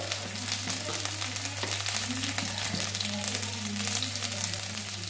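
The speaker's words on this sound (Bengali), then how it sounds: "আদাটা ভেজে নেব" Ginger frying with cumin powder in a pan gives a steady close sizzle with light crackles over a low constant hum, no one speaking.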